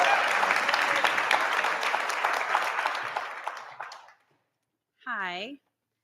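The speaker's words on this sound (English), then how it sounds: "Now let's give her a big round of applause." An audience at a senior honors dinner breaks into hearty applause that gradually fades out over several seconds, followed by a brief pause and then a single voice speaking.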